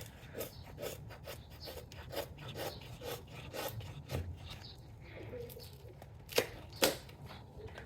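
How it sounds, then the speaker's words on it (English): A Croco Knives Dbad Menace blade carves wood shavings, a close series of quiet, rhythmic scraping strokes with a couple of sharper rasps near the end. "we're doing our carving here to get some little shavings"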